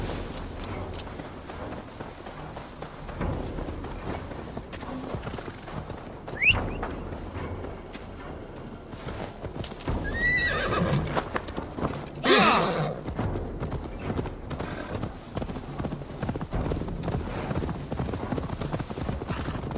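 A horse's hooves clip-clop steadily while riding in Assassin's Creed Valhalla, the gait continuous and mid-level, with creaks, a brief whinny and game ambience mixed in.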